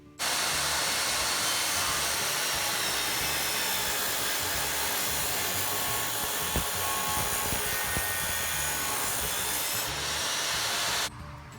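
A table saw rips pine 2x4s into half-inch square strips: a loud, steady broadband cutting roar that starts abruptly, holds for about ten seconds with slight changes in load, then cuts off.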